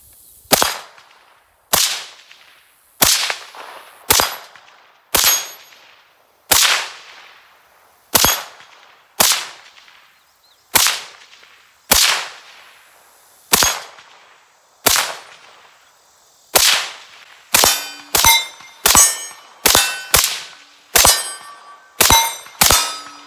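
Rifle fitted with a Meprolight M21 sight fired rapidly at close targets: about twenty loud, sharp shots, each with a ringing metallic ring-off, spaced evenly at first and then quicker near the end.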